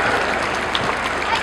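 Audience at an evening tribute concert in Sardinia clapping loudly and continuously, a thick wash of applause with no pauses.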